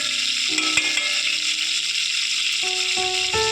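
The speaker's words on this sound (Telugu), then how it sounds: "ఆనియన్స్ కొంచెం తిప్పుకుంటా ఉన్నాను లేదంటే ఒకే తక్కువంటే అడుగంటిపోతుంది" Onions stirred in a hot frying pan for an Andhra-style beef and cucumber curry give off a steady, bright sizzle with soft scraping, close and continuous, with faint tonal kitchen noises behind and no talk.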